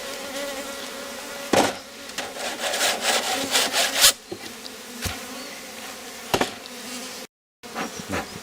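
Honeybees swarm around an open Rose hive box while frames are handled, a dense, continuous buzzing close by, broken by sharp wooden scrapes and knocks and a brief dropout near the end.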